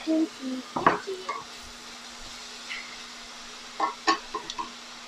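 Kimchi is stirred in a hot pan, with quiet sizzling under a few sharp scrapes and clinks of a utensil against the metal, spaced irregularly.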